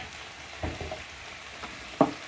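Vegetables stir-fry with soy sauce and oyster sauce in a pan, a soft steady sizzle broken by a few scraping stirs, the last one a sharp louder scrape near the end.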